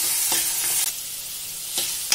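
Ginger garlic paste fries with onions in a pan, giving a close, steady sizzle broken by a few brief stirring scrapes, with no voices.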